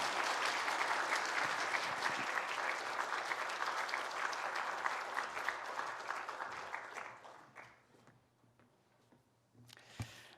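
A church congregation applauds at a Sunday united worship service, a dense wash of clapping for about seven seconds that thins and fades, leaving near silence with a faint sound at the end.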